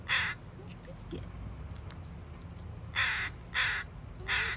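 A crow near an island ferry area caws loudly, one harsh call at the start and then three more in quick succession, over steady low outdoor rumble with a few faint chirps.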